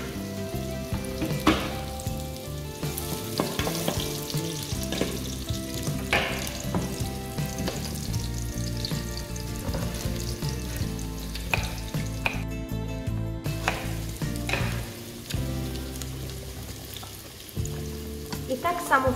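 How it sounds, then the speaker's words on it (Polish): Onion sizzling in hot fat, a busy continuous crackle and frying hiss heard up close with clinks and knocks of a utensil scattered throughout, no voices. "W międzyczasie wrzucam cebulę na gorący tłuszcz i ją podsmażam."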